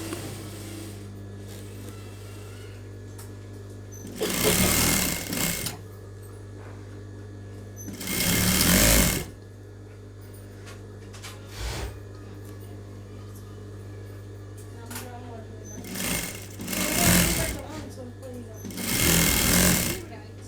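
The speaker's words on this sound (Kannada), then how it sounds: "ಒಂದು ಫೋಲ್ಡ್ ಮಾಡಿಬಿಟ್ಟು ಒಂದು ಸ್ಟಿಚ್ ಅನ್ನೋದು ಹಾಕ್ಕೊಬಿಡ್ತೀನಿ ಫಸ್ಟು" Sewing machine stitching a folded fabric hem about two inches deep on a blouse, running in several short bursts of a few seconds each, with a steady low hum and quiet pauses between runs.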